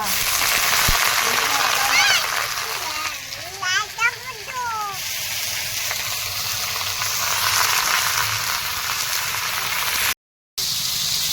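Onions frying in a pan for a home chicken dish, a steady crackling sizzle running throughout beneath a voice and other talk, with a brief break near the end.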